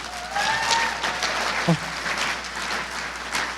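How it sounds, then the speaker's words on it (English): An audience claps warmly at a charity awards celebration, a steady, dense applause running the whole length with a brief thump partway through. "Give him a huge round of applause."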